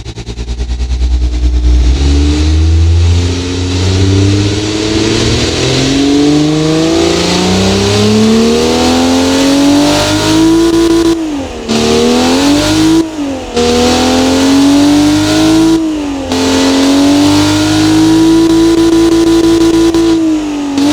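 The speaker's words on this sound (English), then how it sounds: "let's fire it up." Car engine in a video game starts with a low crank, then revs repeatedly, climbing in pitch through several gear-like pulls with brief drops between, loud and close with no talking.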